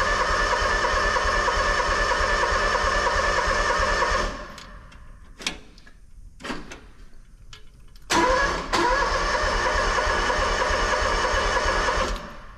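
A seed tender's small motor runs steadily with a rattly mechanical drone, cuts out into a few seconds of near-silence broken by sharp clicks and bumps, then catches and roars back to a steady run, close and without talk.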